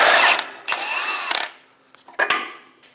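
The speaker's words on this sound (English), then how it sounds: "we're going to use a 24 to remove the nut" A ratchet or power tool turns a 24mm socket to loosen the nut on a front lower control arm bolt of a Chevrolet Express van. There is a loud whirring burst, then shorter spins, clicks and clanks that fade.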